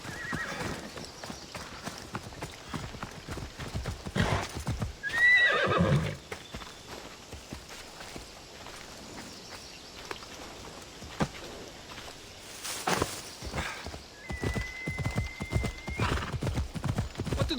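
Horse hooves clip-clopping at a steady trot in the video game Assassin's Creed Odyssey, with a brief whinny early on and faint ambient sounds underneath.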